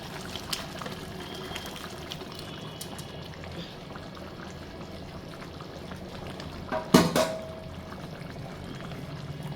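A cooked potato and coriander powder mixture is poured into a simmering spicy mutton curry, a soft wet pouring and bubbling texture running steadily close up, with a brief louder splash and clatter near the end.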